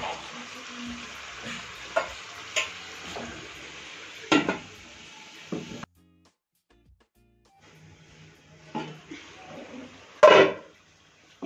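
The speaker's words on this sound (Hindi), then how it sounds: "अब गोश्त को मैं थोड़ा सा फ्राई कर रही हूँ" Mutton pieces fry with tomatoes in a pot, a soft continuous sizzle broken by occasional scraping stirs and clinks of a spoon against metal, with a brief quiet gap midway.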